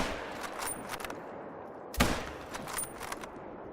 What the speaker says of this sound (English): I don't know where those shots landed